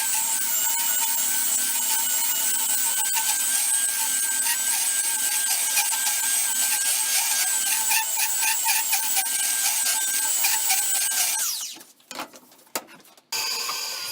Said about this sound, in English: So what I'm doing here is going to sand off those lines that go across the board.